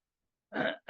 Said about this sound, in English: You can hear my mother coughing in the background.